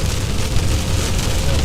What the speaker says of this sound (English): We're back in the heavy rain